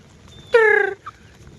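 A single loud, close hen cackle from a native-breed chicken in a farmyard, one short harmonic call with a faint brief cluck after it, and no talking.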